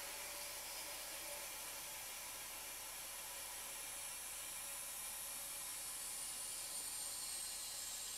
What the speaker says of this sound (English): the vacuum is just pulling those bags down incredibly well